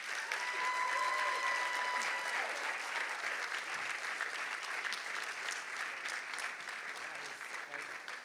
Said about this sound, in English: give Miss Clark and the Maria Holder Memorial Trust a great thank you with a rousing round of applause